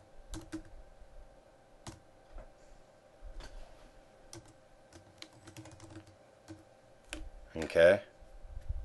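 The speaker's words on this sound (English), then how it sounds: "I just keep typing" Steady clicking of keys on a computer keyboard while typing in Microsoft Excel, irregular taps at close range, ending with a brief louder rustle.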